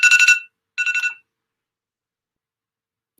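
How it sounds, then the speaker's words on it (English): A phone alarm rings in two short bursts of bright chiming tones, a brief pause between them, then a silent stretch before a faint cut-off blip at the end. "That was my alarm telling me to do something."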